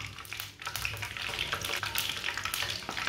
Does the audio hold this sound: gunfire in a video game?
no